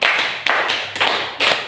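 Students in a classroom counted clapping game clap in unison four times, evenly spaced in a steady rhythm, each clap sharp and close with a brief decay.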